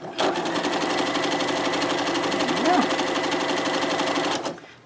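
A sewing machine stitches a cotton pillowcase in one steady, rapid run of needle clatter lasting several seconds, then stops.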